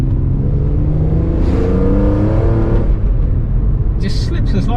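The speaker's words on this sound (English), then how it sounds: "the carbon air intake just gives this engine the most visceral sound you could ever hope for" A BMW M3 CSL engine breathing through a carbon air intake revs hard with a rising, raspy roar that climbs and then drops off, heard loud from inside the car while someone talks over it.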